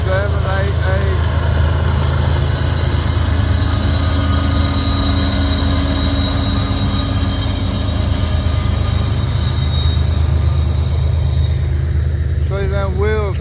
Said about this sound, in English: See them wheels fighting the rail?